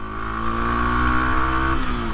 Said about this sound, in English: Loving the sound of this bike.